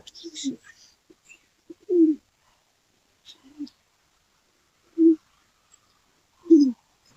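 Several soft, low pigeon coos come in separate bursts with quiet gaps between them, close by, plus a few faint higher chirps.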